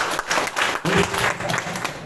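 A church congregation at Holy Family Parish bursts into dense, sustained applause, many hands clapping at once in a reverberant hall.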